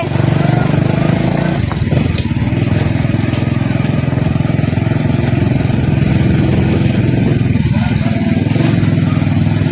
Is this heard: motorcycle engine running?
yes